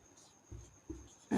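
A teacher writes on a board during a class on DNA structure, making two or three short, soft strokes against near silence, followed by a louder knock at the end.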